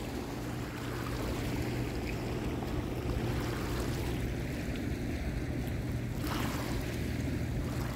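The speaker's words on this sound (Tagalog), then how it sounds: "Malakas yung alon! Oo, ganyan yan eh, pag dumadaan ng barko." Strong waves stirred up by a passing ship wash steadily against the shore or a small boat, a continuous rushing surge with wind noise and a low engine hum underneath.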